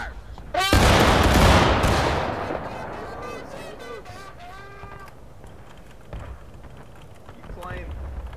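Musket volley from a Civil War video game battle, a company of Union soldiers firing together in one loud crashing burst that rolls off into echoing scattered shots, with voices talking faintly afterward.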